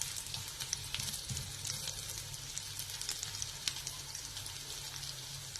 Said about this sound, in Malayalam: അപ്പോൾ കരിയാതെ ഹൈ ഫ്ലെയിമിൽ ഇട്ടിട്ട് എപ്പോഴും ഇടയ്ക്കിടയ്ക്ക് ഇങ്ങനെ ഇളക്കി കൊടുത്തുകൊണ്ടിരിക്കണം.